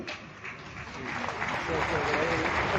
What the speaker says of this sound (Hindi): तो ताली धीरे क्यों बजा रहे हो?